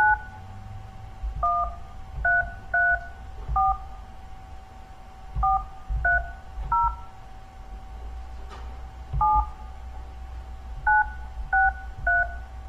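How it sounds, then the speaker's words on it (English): Touch-tone telephone keypad dialing, a series of crisp dual-tone beeps in irregular bursts with short pauses between digits, close and clear over a low background hum. "We'll dial 9 this time."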